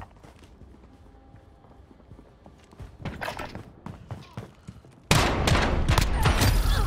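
Gunfire in the Modern Warfare video game, scattered bursts of shots and clatter that build over several seconds before a sudden, loud, dense barrage takes over at the end.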